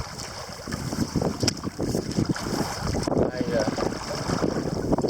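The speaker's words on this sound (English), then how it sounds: "The wind's picking up, the waves are picking up." Gusting wind and choppy waves on an open lake around a canoe, with rumbling wind buffeting the microphone and water slapping steadily throughout; a voice speaks briefly.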